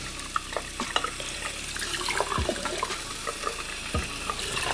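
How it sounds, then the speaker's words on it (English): Water pours and splashes onto a hydrophobic jacket during a water test, a steady broadband spatter and running-water rush with scattered droplet impacts and a few low thuds, continuous and fairly close, with no talking. "So what we are doing here now is water testing the jacket."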